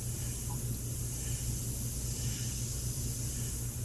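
Spray gun hissing steadily as it sprays yellow base paint, thinned with reducer, onto a Harley-Davidson motorcycle part. A continuous broad hiss runs unbroken over a low mechanical hum from start to finish.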